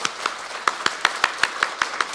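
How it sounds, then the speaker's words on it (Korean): A church congregation clapping together in a steady, rhythmic beat, about ten sharp claps spaced evenly after a Sunday morning service prayer, moderately loud in a reverberant sanctuary. "잘 다녀라고 박수 한번 하겠습니다."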